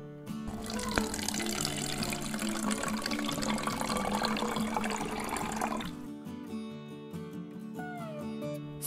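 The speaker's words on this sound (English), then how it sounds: "And pouring it into the bottle." Half a cup of vinegar pours from a cup into an empty bottle as a steady liquid trickle and gurgle for about six seconds, then stops, leaving a quiet room with a faint high squeak.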